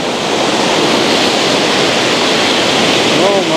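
Steady, loud rush of a waterfall in Zacatlán, a dense broadband roar filling the whole moment without pause, heard up close alongside a voice.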